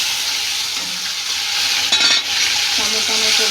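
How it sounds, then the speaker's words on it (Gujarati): Tomatoes hit a hot tempering of mustard seeds and cumin, setting off a dense, loud sizzle close by with a brief burst of extra crackling midway, and no one speaks. "રાઈ જીરું સતળાઈ ગયું છે દોસ્તો તો હવે આપણે ટામેટા એડ કરી લઈશું"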